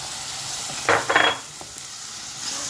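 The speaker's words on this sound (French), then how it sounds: "Et on va laisser frire encore 2-3 minutes." Vegetables with chili and an Indian spice mix fry in a pan for vegetarian spring rolls, giving a soft, steady sizzle with a couple of brief louder stirring scrapes near the middle.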